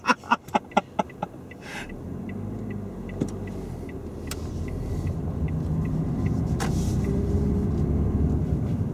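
A manual car's engine rumbles steadily from inside the cabin while driving, preceded by a quick series of sharp clicks at the start, with the low drone gradually swelling louder toward the end.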